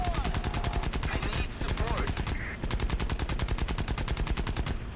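Aircraft machine guns fire in rapid, loud, continuous bursts during a War Thunder dogfight, with a couple of very short pauses between strings of rounds.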